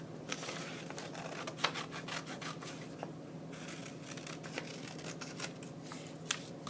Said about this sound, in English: Very carefully, slow scissors to cut around my hot chocolate.